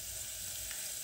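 Dried red chillies and tempering spices fry in hot oil with a steady, quiet hiss of sizzling that continues evenly throughout.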